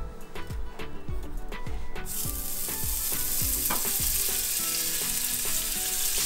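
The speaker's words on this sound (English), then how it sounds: "add a little bit of fat to each of these frying pans and then melt the jaggery in there" Jaggery melts in fat across frying pans for sesame brittle, giving a steady, close, loud sizzle and crackle throughout. Near the start a few sharp clinks or stirring knocks break through it.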